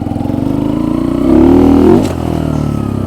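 Kuba Race 125 motorcycle engine revving up close as the rider accelerates toward a jump, pitch climbing to a loud peak before the throttle drops back to a steady idle-like drone.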